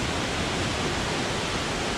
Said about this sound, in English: The waterfall shows it.